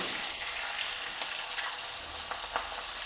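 Red chilli pieces fry in oil: steady sizzle and crackle throughout, with a few brief louder pops, close and continuous with no voices.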